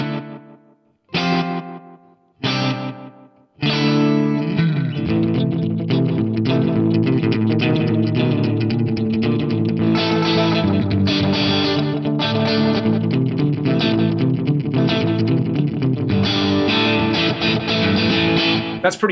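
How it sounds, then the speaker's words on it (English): A distorted electric guitar plays a few separate chords, then a sustained riff, each note followed by a quick single repeat from an Eventide H90 slapback echo delay. "I've got a slapback echo on there."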